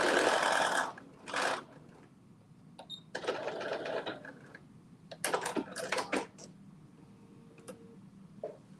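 A sewing machine runs a 5/8 inch seam in short bursts of fast stitching, several runs separated by pauses, near and fairly quiet, with faint clicks between runs.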